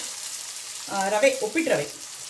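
Onion and brinjal frying in a pan while rava vangi is cooked, a soft steady sizzle running throughout, with brief louder bubbling bursts in the middle.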